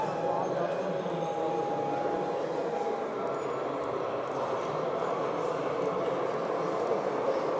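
Steady rolling rumble of a Spur 1 gauge model train moving along its track at a Munich model railway meet, with a brief thin whine early on and a low murmur of people behind.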